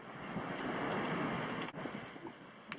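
Steady broadband wash of sea and wind on a sailboat underway, a continuous surf-like roar with wind buffeting the microphone, one brief dropout partway through and a small bump near the end, no voices.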